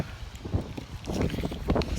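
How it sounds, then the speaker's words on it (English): Gusty outdoor wind buffets the microphone in uneven low rumbling bursts, rising and falling over a couple of seconds with no speech. "The wind is blowing it open. It's very windy here."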